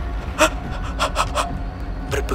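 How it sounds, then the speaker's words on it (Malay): Heavy, ragged panting and gasping for breath in short bursts, a close, strained breathing sound of someone unable to breathe, set against low background noise. "aku mula tercungap-cungap,"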